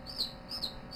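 Newly hatched chicks in a Brinsea Octagon 20 Eco incubator, giving a quick run of three or four high, thin peeps, close and fairly faint, with no talk.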